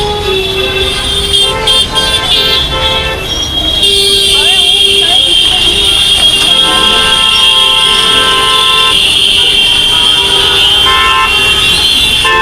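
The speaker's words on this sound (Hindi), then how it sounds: "उसके बाद भी इतना ज़्यादा हॉर्न बज रहा है यहाँ पे।" Car horns honk repeatedly in busy evening street traffic at a red light, with sustained and overlapping toots over a steady roadway rumble, loud and close.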